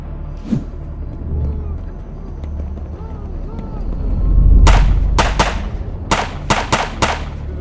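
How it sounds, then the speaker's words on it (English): Artillery shelling of a coastline in a film: a low rumbling build with distant engine drone, then a volley of sharp, loud gun blasts in quick irregular succession, with voices talking under the early part. "The artillery conducted intense shelling of the coastline."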